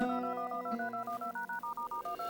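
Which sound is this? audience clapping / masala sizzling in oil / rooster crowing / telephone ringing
telephone ringing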